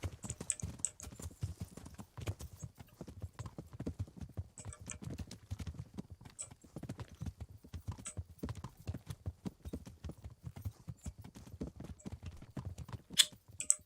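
Horse hooves clip-clop in steady, quick rhythm in the video game Kingdom Come: Deliverance, the even patter continuing close and unbroken with light higher clatter now and then.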